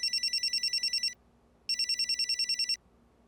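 A mobile phone ringtone sounds in two bursts of rapid electronic trilling, separated by a short pause, clear and fairly close.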